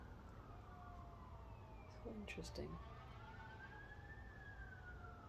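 A faint, distant emergency vehicle siren slowly rises and falls on a residential street, with a brief spoken remark near the middle.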